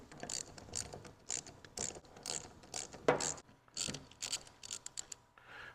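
A 14mm socket wrench ratchets out bolts on a Schmidt MicroValve 3 grit valve, giving repeated close clicking ratchet bursts in an irregular rhythm with brief pauses and metallic clinks.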